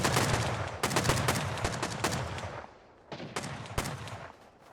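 AK rifles firing in the online survival game Rust: rapid bursts of automatic gunfire, loud at first, then a pause and more scattered shots, with no voices.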